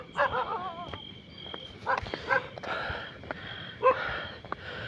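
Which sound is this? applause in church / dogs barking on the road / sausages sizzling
dogs barking on the road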